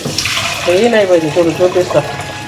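Tap water runs in a steady hiss as vinegar-soaked chicken liver is rinsed by hand during cleaning, with a person talking over it throughout.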